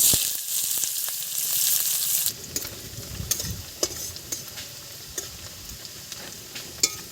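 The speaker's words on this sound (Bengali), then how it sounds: "তেলের মধ্যে পেঁয়াজ দিয়ে দেবো।" Sliced onions fry in hot oil with cloves, cinnamon and cardamom, starting with a loud sizzle as they hit the oil and then settling into a softer crackle broken by sharp clicks and scrapes of stirring.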